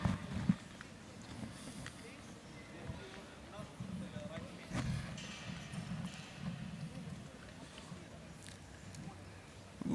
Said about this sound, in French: Je regarde des chevaux qui viennent vers moi.